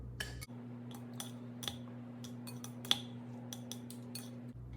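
Metal utensils clink and scrape against a bowl while ghost pepper instant noodles are stirred, small sharp ticks scattered irregularly over a low steady hum, close and fairly quiet.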